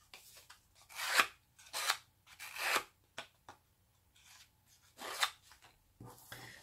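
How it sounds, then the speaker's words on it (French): A scissor blade is scraped along paper edges in short, rasping strokes, about five distinct swipes with pauses between, close and crisp with no talk. "vous pouvez faire ça avec le lame du ciseau."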